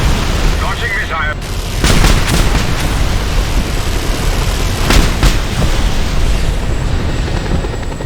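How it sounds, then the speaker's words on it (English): Missile launch and explosion in the video game Just Cause 2, a loud, dense rumble sustained throughout with sharp blasts near two and five seconds, amid helicopter-like engine roar and gunfire; no speech over it. "Launching missile."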